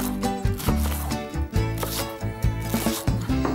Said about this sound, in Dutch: Ondertussen gaan we onze prei in stukjes snijden.